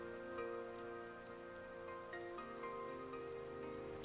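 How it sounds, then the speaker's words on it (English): Rain falling in the modded Minecraft game Minecolonies, a soft steady patter under faint tonal game music, no speech. "And it's raining."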